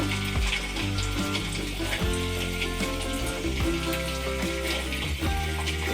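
Soaked field beans (avarekalu) deep-frying in hot oil, giving a loud, continuous bubbling sizzle with scattered crackles and no pauses.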